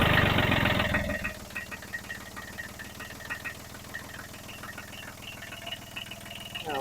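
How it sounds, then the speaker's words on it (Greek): A Kubota tractor diesel engine, in poor condition, is started: a loud cranking burst at the start gives way to a steady, knocking idle close by, with no talk. "Θα πάμε να βάλουμε μπρος τον κινητήρα, έτσι ένα πρώτο ξεκίνημα που λέμε,"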